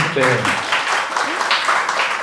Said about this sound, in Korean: 여러분들 박수 한번 주셔야겠는데요